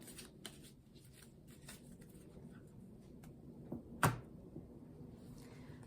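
A deck of tarot cards is shuffled by hand, with faint soft riffles and light taps and one sharper snap of cards partway through, close and quiet with no talking.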